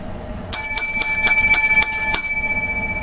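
Seven bright metallic bell strikes ring out in quick succession, loud and close, each leaving a shimmering ringing tone behind it.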